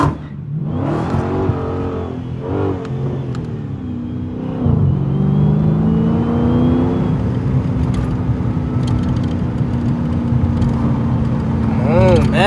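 A straight-piped 2020 Dodge Scat Pack downshifts and revs, its engine rising and falling in loud bursts before settling into a steady drone, with people talking over it.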